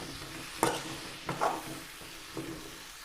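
Cut drumstick pieces hit a hot pan for a drumstick kootu and get stirred, giving three short scraping, sizzling bursts over a soft steady frying hiss, close and without talk.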